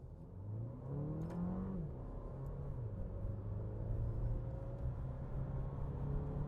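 A 280-horsepower Alfa Romeo Tonale pulls away from a standstill in manual mode, its engine note climbing steadily with a shift partway through, then droning on under a constant rumble of road and cabin noise.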